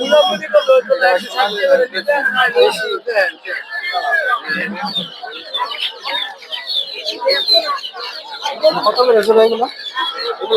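Chickens and ducklings at a poultry market in Narsingdi cluck and cheep densely and continuously nearby, a busy chorus with people's voices mixed in beneath it.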